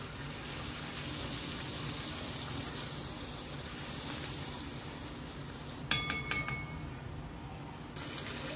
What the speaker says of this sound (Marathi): आता आपण पुऱ्या तळून घेऊया.